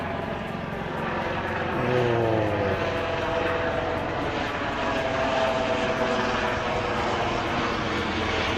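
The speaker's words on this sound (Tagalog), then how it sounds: "Ayan, may helicopter oh." A helicopter flies nearby over a fishing spot, its engine a constant droning rumble that holds steady and fairly loud throughout, with no voices.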